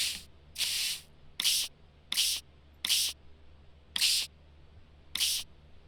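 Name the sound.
spraying fossils with solution in a video game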